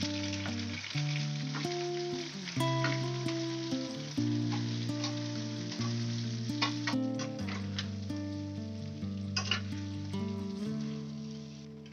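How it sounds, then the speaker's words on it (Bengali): Continuous sizzling of marinated green crabs frying in a pan, with occasional ticks and pops over a steady hiss. "ম্যারিনেট করা ক্যাংড়াগুলো দিয়ে দিলাম।"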